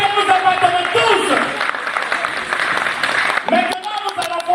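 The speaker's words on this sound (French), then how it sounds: "je vous demande d'applaudir l'Afrique" An audience at an African day celebration in Tunisia applauding the continent, steady clapping from a crowd that swells and fades over a few seconds, heard alongside a voice on a loudspeaker.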